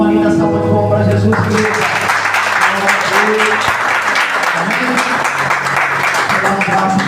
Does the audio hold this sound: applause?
yes